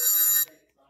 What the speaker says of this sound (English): Hold on, somebody calling me